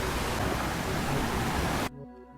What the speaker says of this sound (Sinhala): වතුර පාරක් යනවා මෙතනින්